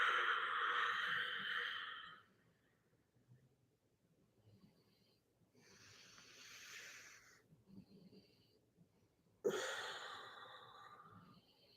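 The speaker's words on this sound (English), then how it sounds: "Breathe deeper, please." Deep breathing during a gentle yoga session: a long, soft airy exhale, a quiet pause, another breath, then a sharper inhalation and a further breath, faint and close in a quiet room.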